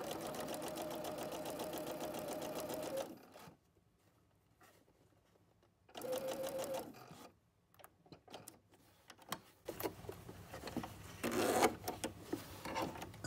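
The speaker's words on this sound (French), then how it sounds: "Et là, je vais pouvoir coudre jusqu'au bout." A domestic sewing machine stitches a pocket lining in two steady runs of fast, even needle chatter, broken by a quiet pause and followed by scattered clicks and fabric handling noises, heard close and fairly soft.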